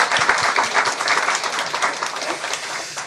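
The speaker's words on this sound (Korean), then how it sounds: "오늘 우리 성가대 아름다운 찬양 하나님께서 기뻐 받으신 줄 믿고 우리 경의의 박수 한번 하겠습니다" Church congregation applauding the choir at a Christmas Day service, a dense wash of clapping that stays steady and fairly loud throughout, with no voices over it.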